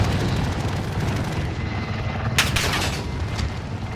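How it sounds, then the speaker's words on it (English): A video game helicopter thumps and rumbles loudly throughout. Several sharp gunfire bursts crack over it near the end, and there is no talking. "I don't know why they have these helicopters out already."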